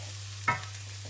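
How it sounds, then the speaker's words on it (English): Softening vegetables for a gluten-free vegan nut roast are stirred in a frying pan, giving a low steady sizzle and one brief close scrape of the spoon, with no voices. "just make sure you just keep stirring it every now and again"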